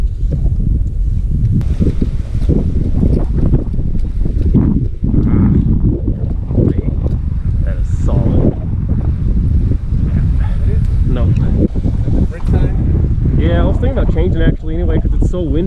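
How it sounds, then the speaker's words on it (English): Strong gusty wind buffets the microphone in a low, constant rumble while people talk intermittently over it outdoors at Amistad Lake. "So windy and stuff."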